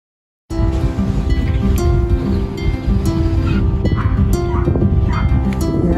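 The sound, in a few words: small dog yapping and barking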